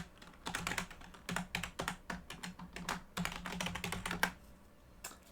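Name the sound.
typing a password on a computer keyboard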